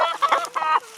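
Backyard chickens clucking close by in a quick series of short, bright calls, with a brief pause midway and no speech over them.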